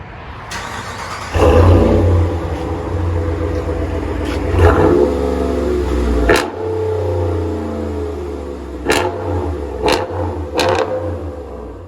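A RAM pickup's 5.7L HEMI V8 revs repeatedly through a Corsa stainless steel exhaust, loud and close, with deep rumbling idle between several sharp throttle blips.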